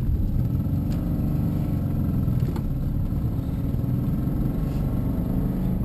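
A Citroën Visa without power steering is driven with its engine running, producing a steady low rumble and drone inside the car with only a few faint rattles.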